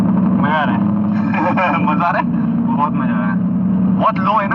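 A Ford Mustang GT being driven gives a low, steady engine drone that runs under continuous excited talk in the car.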